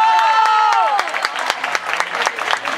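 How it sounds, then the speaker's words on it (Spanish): A crowd claps at the coronation of a Barranquilla Carnival queen, the applause starting under a held musical tone and then thinning into scattered, sharper claps as the music fades. "Quiero que le brinden un fuerte aplauso."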